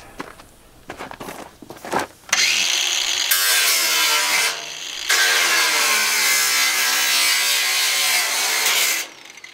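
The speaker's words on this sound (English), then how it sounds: "Sometimes that's kind of hard to air chisel that spot because it is double layer." An air chisel cuts through double-layer sheet metal while a clothes dryer is scrapped, starting with a few hits and rattles, then a loud continuous buzzing burst, a brief pause, and another long sustained cut.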